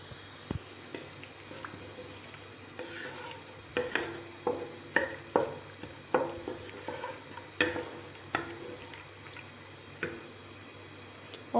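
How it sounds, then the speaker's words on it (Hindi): Onions fry in oil in a kadai while being stirred. A steady sizzle runs throughout, broken by repeated scraping clanks of the spoon against the pan, close and clear, with no talk. "अब थोड़ा सा हम प्याज को भून लेते हैं।"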